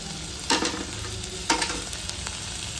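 Onion, tomato, garlic and green chillies sauté in oil in a pan with a soft, steady sizzle, broken by two distinct scraping stirs of a spoon, quiet and close with no voices.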